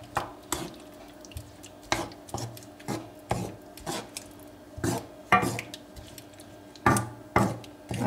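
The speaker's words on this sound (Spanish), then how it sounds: "Y vamos dejando que se vayan cuajando y removiendo." A utensil scraping and stirring beaten eggs with shrimp and spinach in a pan, about a dozen rasping strokes in an irregular rhythm, close and fairly loud with no talking.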